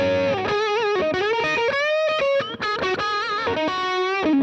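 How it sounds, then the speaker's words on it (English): Electric guitar played through a modded Boss DS-1 distortion pedal (Tri Roxx Plus mod), giving a creamy, saturated distorted tone; a loud, continuous run of sustained notes and quick melodic phrases with no talking. "saturated kind of distortion."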